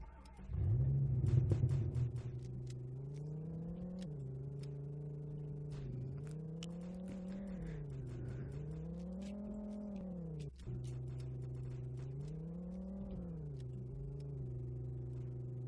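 Car engine in the Roblox video game, a steady droning hum that rises and falls in pitch over about fifteen seconds after a louder start, near and continuous with no talk.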